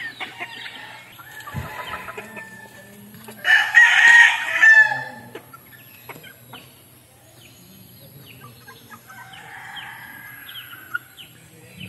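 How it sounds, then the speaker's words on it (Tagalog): A rooster crows loudly, nearby, and clucks and other chicken calls follow, with faint farmyard sounds around them. "Ganda, malaking manok."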